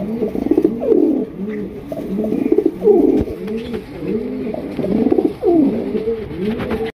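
Spangle Rajshahi Giribaz pigeons coo in repeated rolling, throaty phrases, close and clear, several birds overlapping in a steady rhythm with no talk.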